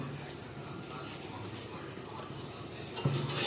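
A spoon stirs a yogurt-based Kathiyawadi dhokli curry in a pot, making soft scraping and light clinks against the metal under a low simmering hiss, with a faint voice in the background.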